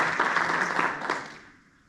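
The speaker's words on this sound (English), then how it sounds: "If you'll please give him a round of applause." Audience applause for a school board candidate at a candidate forum, a steady burst of many hands clapping that fades out over about two seconds.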